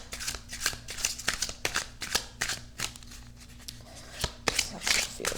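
A deck of oracle cards is shuffled by hand three times, giving a rapid series of crisp, riffling flutters and taps, close and fairly loud, with no talking.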